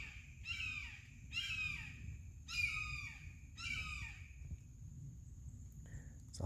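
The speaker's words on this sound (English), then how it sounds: "hawk saying hi." A bird in woodland along the Withlacoochee river in Florida gives four harsh, descending calls in a steady series, fairly close, over a low rumble of wind or distant noise, then falls quiet.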